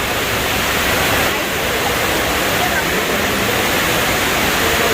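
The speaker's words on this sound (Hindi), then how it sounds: "ऊपर से पानी गिर रहा है और उन्होंने स्टैचू से लगाए हुए हैं।" Indoor waterfall at Dubai Mall, water falling from above past statues, roaring as a loud, steady, broadband rush that fills the space without pause.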